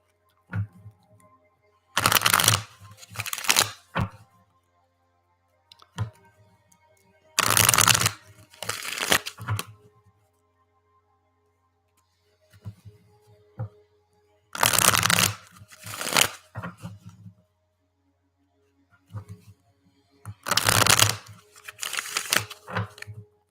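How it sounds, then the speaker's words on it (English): Playing cards being shuffled in four distinct bursts of crisp riffling and fluttering, each a second or two long, separated by quiet pauses with faint handling clicks, close and calm. "I like the sound of the cards shuffling."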